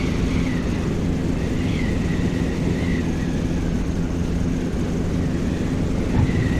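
A steady propeller airplane engine drones in Flight Simulator X as the aircraft floats low over the runway before touchdown, a constant even hum with no talk.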